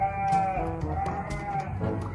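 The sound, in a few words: Anglo Nubian goats bleating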